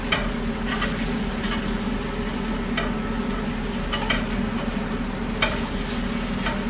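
Eggs frying in a pan without fat, flipped over with a utensil: a close, steady sizzle over a low hum, broken by a few light scraping taps as they are turned.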